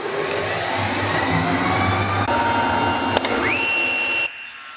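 A woodworking machine mills lumber flat and square for the parts of a midcentury, Danish modern style crib, giving a loud, steady whirring roar that runs for about four seconds before cutting off to a quieter hum.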